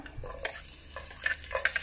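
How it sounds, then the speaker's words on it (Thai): Garlic sizzles and crackles in a hot wok while a utensil stirs and scrapes it in short bursts while making fried rice with budu chili paste, fairly quiet and with no voices. "กระทะเริ่มร้อนแล้วนะครับ เราก็ ใส่กระเทียมลงไปเลยครับ"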